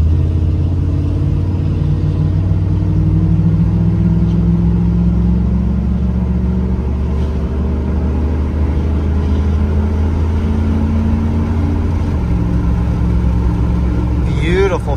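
A car engine pulls hard under acceleration, its rising whine climbing steadily before a smooth gear shift drops the pitch and it climbs again. The cabin is loud and close, with a voice occasionally over the engine.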